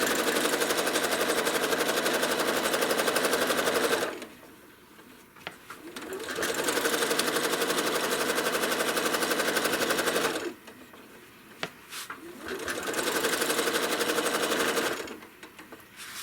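A home sewing machine stitches quilting lines on a star quilt, running in loud, steady bursts of rapid needle chatter separated by short pauses, close up with no talking.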